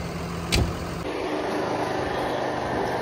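A farm tractor engine runs steadily nearby, a low continuous rumble with a brief sharp knock near the start and no voices over it.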